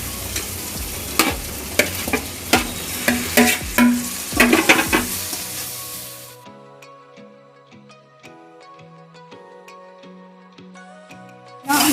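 Tomatoes stirred into a hot pan of spices for a paneer dish, spoon scrapes clattering repeatedly over a steady sizzle, then quieter clinks as the frying fades.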